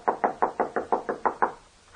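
Knocking on a door in an audio drama: nine firm, evenly spaced knocks in quick steady rhythm, close and clear with no voices, then a short quiet tail.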